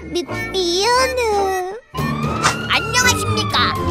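In a Pororo cartoon safety officer scene, a child-like voice imitates a siren with a rising and falling wail, in two bursts split by a short pause.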